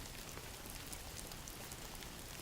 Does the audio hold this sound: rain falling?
yes